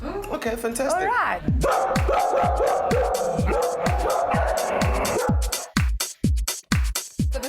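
Dogs recovering from operations at an animal hospital bark and yip in a quick, repeated series, close by and loud, while someone speaks over the noise.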